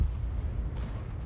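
A tank cannon fires in a T26E5 tank video game, a single muffled shot over a steady low engine rumble, with a brief bright burst partway through.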